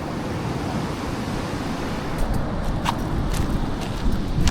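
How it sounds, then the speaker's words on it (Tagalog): Big ocean waves break at a shore fishing spot for trevally and threadfin salmon, producing a loud, continuous roar of surf. Some sharper splashes come through in the second half. "Ang laki ng alon."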